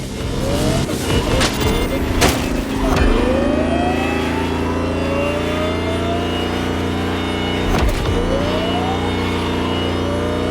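An electric Lamborghini hypercar accelerating in the racing game The Crew Motorfest, a loud steady drive sound with rising whine sweeps and a few sharp transients, no talking.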